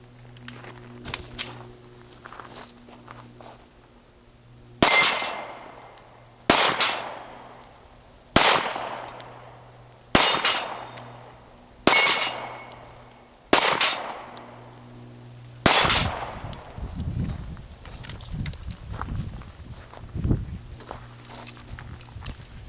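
Sig Pro 2340 pistol shots at a shooting range: six loud, sharp reports spaced a few seconds apart, each with a ringing decay, followed by a louder rapid cluster of shots.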